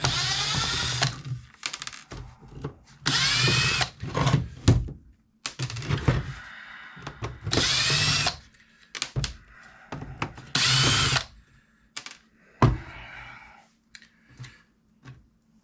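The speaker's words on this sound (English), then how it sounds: "Let's see if the drill will reach in there and take care of this." A power drill whirs in several short bursts, close up, drilling inside an AVER conference camera being taken apart, with pauses and handling clatter between the runs.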